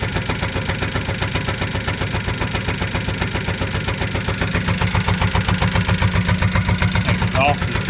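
Kawasaki Mule 2510 engine idling after an idle mixture adjustment on the carburetor, a loud, close, steady rhythmic putter with regular pulses that grows slightly louder partway through, with speech over it.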